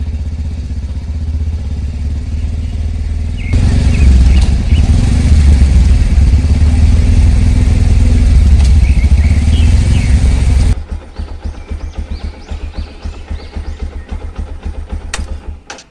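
A motor vehicle engine runs loud and steady, then cuts out abruptly as it stops, leaving quieter clattering and small sounds behind.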